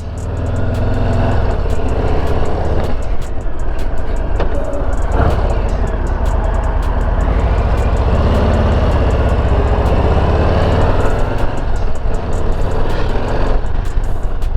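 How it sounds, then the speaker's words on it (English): A 2023 Harley-Davidson Low Rider ST with its 117 engine under way, a loud continuous low engine drone with wind roar, revs rising and falling as it rides. "now we're off. Riding the Low Rider ST."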